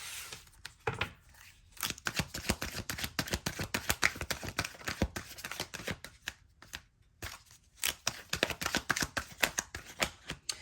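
Tarot cards are shuffled by hand, a quick run of dry riffling clicks and slaps in bursts with short pauses between, close and fairly quiet, with cards that seem to stick.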